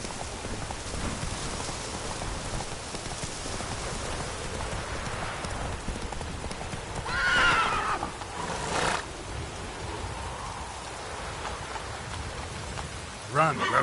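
Roach, a horse in the Witcher 3 video game, gallops through rain with steady, close hoofbeats over a constant hiss of rainfall, plus a brief whinny or shout midway and a louder knock near the end.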